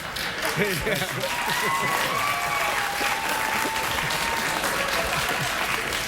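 A late-night talk show studio audience breaks into sustained applause, a full, even roar of clapping that holds steady from start to finish.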